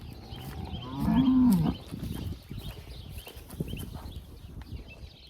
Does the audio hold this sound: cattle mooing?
yes